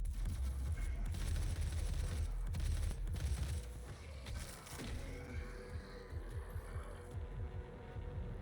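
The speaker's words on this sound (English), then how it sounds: "Man, it sure is easy shooting imps." Rapid gunfire in Doom (2016) as imps are shot down: a dense, booming spray of shots over the first few seconds, then a rhythmic string of lighter mechanical bursts, loud and continuous with game noise underneath.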